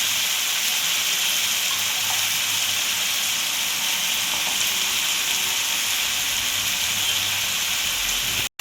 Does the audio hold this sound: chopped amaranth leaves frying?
yes